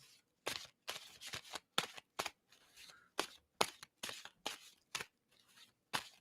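Playing cards being riffled and shuffled by hand in a quiet room, a series of sharp, brief crisp bursts repeating about a dozen times with short gaps, close and fairly soft.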